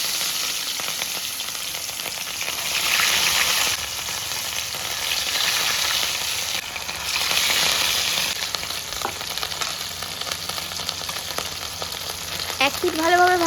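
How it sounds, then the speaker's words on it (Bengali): Rui fish pieces fry in hot mustard oil, a loud continuous crackling sizzle that swells in waves, with a few clinks and scrapes near the end and no speech. "তেলটা ভালোভাবে গরম হয়ে গেলে দিয়ে দেবো মাছগুলোকে।"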